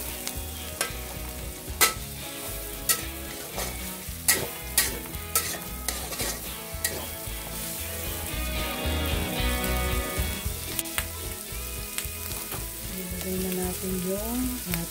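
Pancit canton noodles with carrots stir-fried in a pan, a steady sizzle broken by repeated scraping and tossing strokes, close and loud with background music.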